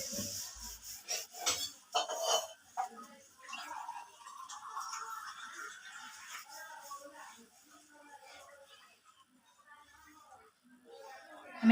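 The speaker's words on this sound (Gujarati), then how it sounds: "આપણે એક ચપટી ભરીને મેથી લઈ લીધી છે, તેને હાથથી આવી રીતના મસળી નાખીશું." Dried fenugreek leaves rasp and crackle softly as a pinch is rubbed between the fingers, a faint, uneven rustling that fades out toward the end, with someone talking over it.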